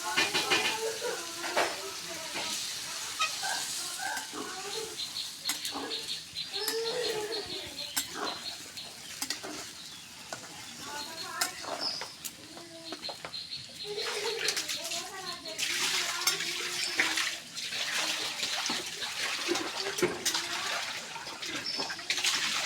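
Masala for a fish curry with bata fish, taro and pointed gourd sizzles and crackles in a pan after water goes in, a continuous frying hiss under someone speaking.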